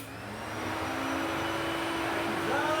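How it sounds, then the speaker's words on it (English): A vacuum cleaner working as the blower on a pellet gasifier, giving a loud, steady, close roar with a constant whine that swells slightly as it comes up to speed and then holds, with no talking. "Vacuum's on."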